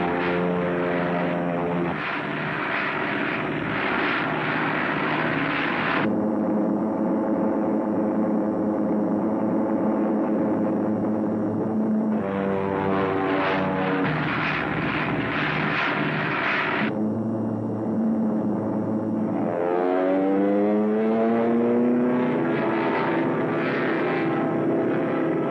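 A Messerschmitt ME-109 plane in flight is rendered in a 1940s radio drama, its engine drone rising and falling over about 25 seconds and mixed with swelling orchestral music, with no talk.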